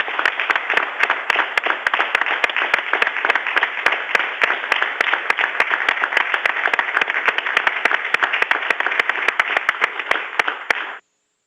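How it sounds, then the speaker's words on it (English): Sustained audience applause for a space shuttle launch team on the final flight of the shuttle program, steady dense clapping lasting about eleven seconds before cutting off abruptly. "I think I heard one or two people clapping there."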